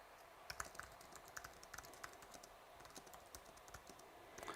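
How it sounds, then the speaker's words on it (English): Quiet typing on a computer keyboard, a steady run of soft key clicks at an uneven pace with no voices. "I'm answering the question by typing a comment in."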